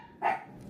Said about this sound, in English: I apologize, that was my dog.